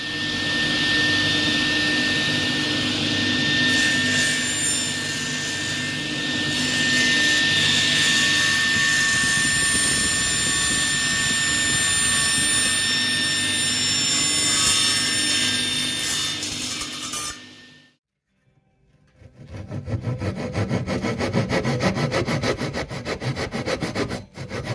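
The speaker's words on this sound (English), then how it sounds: "And then cut the tenon to the shape of the mortise." Hand saw cutting a wooden tenon to fit a mortise while restoring an antique French window, steady rasping strokes running loud and close, then a brief pause before the sawing resumes.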